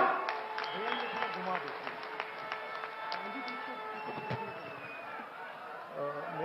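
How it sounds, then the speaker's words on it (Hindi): A political convention crowd claps to welcome Rahul Gandhi, scattered hand claps that come and go under a voice talking over a loudspeaker. "जोरदार तालियों से स्वागत एक बार।"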